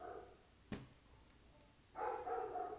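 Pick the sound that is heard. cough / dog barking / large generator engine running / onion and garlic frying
dog barking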